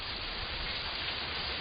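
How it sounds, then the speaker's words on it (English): Heavy rain falls in a steady, dense wash of noise, close and continuous, with no voices over it. "It's raining heavily"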